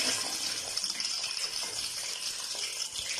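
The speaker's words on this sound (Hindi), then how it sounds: "तो अब मैं चिकन इस हांडी में डाल दूंगी जिसमें प्याज गोल्डन किए हैं।" Chicken pieces tipped into a pot of golden fried onions give a steady, fairly loud wet hiss and rush of frying for the whole stretch, with no talk.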